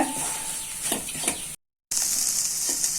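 Bitter gourd fry is stirred with grated coconut in a pan, giving a loud, close sizzle with a few scraping strokes, a brief silent cut, then steady frying hiss.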